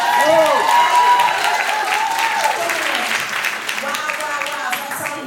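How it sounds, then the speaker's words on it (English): Sustained applause from a panel event audience, loud and steady for several seconds before easing slightly, with a voice speaking over the start. "can we give him a round of applause?"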